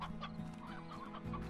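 Chickens clucking in the game Slime Rancher, a quick burst of close, busy clucks over a low steady background hum.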